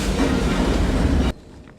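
Train engine rolling on railroad tracks in a Wild West film setting, a loud, heavy rumble with clattering wheels that cuts off abruptly, leaving faint quiet.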